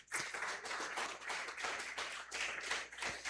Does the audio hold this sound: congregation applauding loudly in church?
yes